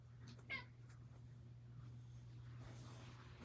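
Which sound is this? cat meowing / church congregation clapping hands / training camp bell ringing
cat meowing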